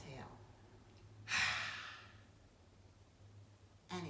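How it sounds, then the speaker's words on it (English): A breath exhaled out through the mouth during a yoga session, one soft, airy sigh that fades out, followed by the start of another breath at the end, quiet and close. "we're going to exhale our first 3 breaths out through the mouth"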